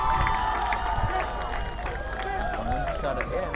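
Hometown fans at an ultimate frisbee final (UPAI NCUC 2022, MTB vs SLIPDIISC) form a steady crowd roar with scattered cheers, under a commentator talking over the noise.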